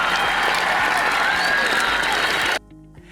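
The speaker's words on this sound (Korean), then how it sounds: "큰 박수 부탁드립니다" Audience applause for two military chaplains at a Buddhist dharma talk, a steady full round of clapping with light cheering and music underneath, cutting off abruptly before the end.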